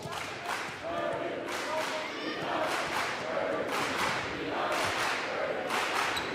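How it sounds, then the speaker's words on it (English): Crowd in Holloway Gym at a Nebraska vs Purdue NCAA women's volleyball match, a steady roar of cheering with rising swells and yells, under a commentator's talk. "Good crowd tonight in here at Holloway Gym"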